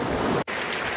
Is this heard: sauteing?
no